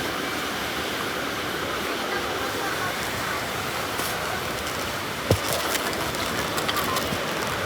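Steady hiss of rain falling continuously, with a few faint clicks and knocks near the end.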